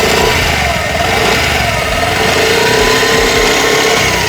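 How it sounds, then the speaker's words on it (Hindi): A Honda Dio BS6 scooter engine runs steadily at close range, giving a continuous, even drone with a whirring edge and no pauses or talk. "आवाज़ है इंजन की। जब इसे रन करते हैं, चलाते हैं"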